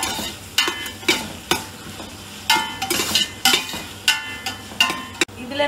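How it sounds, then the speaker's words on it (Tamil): A spoon stirs mutton biryani masala with five chopped green chillies in a pot, scraping and clinking in repeated strokes over a soft sizzle, close and fairly loud with no talking. "நம்ம இப்ப கிண்டி கொடுப்போம்"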